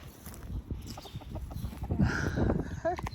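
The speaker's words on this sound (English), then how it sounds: "I just love a rooster." A rooster clucks in short bursts close by, with low rustling and outdoor background noise around it.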